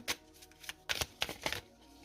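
Tarot cards being shuffled, several quick papery riffles and slaps in short bursts separated by brief pauses, close and fairly quiet.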